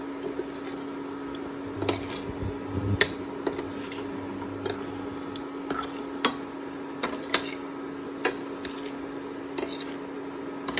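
A utensil stirs potatoes with spices and radish with chickpeas in a pan, making irregular soft clinks and scrapes against the metal over a steady stove hum, with no one talking.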